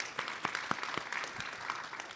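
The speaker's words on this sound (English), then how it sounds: "can we get a round of applause again for our panelists?" Audience applause for the panelists at a live Plants vs. Zombies Replanted Q&A event, a steady wash of clapping with a few sharper claps standing out, moderately loud and continuous with no talk over it.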